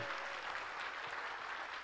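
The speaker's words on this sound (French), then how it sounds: "On applaudit, mes amis." Steady applause from a crowd at an evangelical campaign gathering, a dense wash of clapping that continues evenly throughout, moderately distant.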